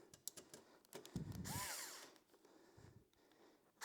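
Parts of a Kobra 2 Max 3D printer are bolted in place, with a faint, brief whir of a powered driver among quiet clicks and handling noises close by.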